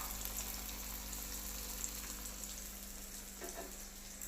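Eggplant sizzles in oil in a frying pan as it is stirred, a constant close crackle with a low steady hum beneath and a few soft scrapes near the end.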